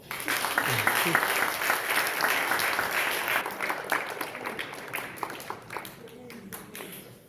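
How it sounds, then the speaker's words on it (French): Wedding guests applaud in a sustained burst of dense clapping that gradually thins toward the end, with scattered voices mixed in. "Applaudissez pour vous."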